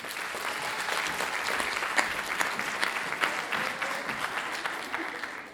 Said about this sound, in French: Un tonnerre d'applaudissements pour notre prochaine candidate, Nadia.